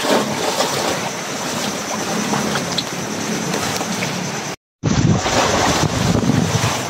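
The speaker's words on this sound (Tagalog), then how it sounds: "Yan, malakas yung hangin." Strong wind sweeping over a calm sea, loud and continuous, with heavy microphone buffeting and the surf wash blended underneath. The sound cuts out for a brief moment near the end.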